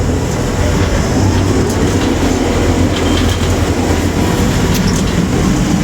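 A Geda PH650 construction hoist travelling down: a loud, steady mechanical rumble and rattling clatter with a constant drone, heard up close and continuous throughout.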